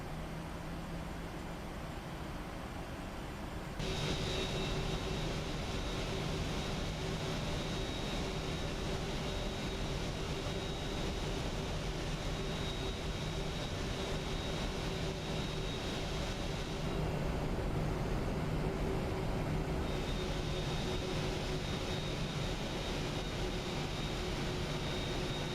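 In the Prepar3D flight simulator, the jet engines of a PMDG 737-900ER spool up to a steady, loud roar with a high whine. The noise steps up sharply early on and holds constant, with no talking.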